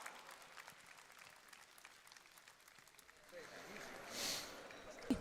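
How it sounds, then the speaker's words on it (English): An audience applauds a strongman competitor after a women's under-82kg shield carry event, the clapping steady and moderate before swelling louder and closer near the end, with a few voices mixed in. "Round of applause for Donna Moore."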